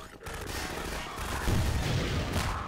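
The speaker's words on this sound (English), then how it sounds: "I have infinite rockets. I'm gonna use them." A rocket launcher fires in Half-Life 2: Episode One, a short burst of booming explosive blasts and rumbling impacts that stays loud and dense to the end.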